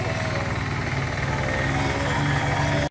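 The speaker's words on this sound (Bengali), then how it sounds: "স্ক্রিনে যে মেশিনটি দেখতে পাচ্ছেন সেটিং করা হচ্ছে, এটা হলো 120 সিসি মিনি পাওয়ার টিলার" A 120 cc mini power tiller engine runs at a close, loud, rapid steady chug, its even pulsing rhythm continuing throughout before cutting off abruptly at the end.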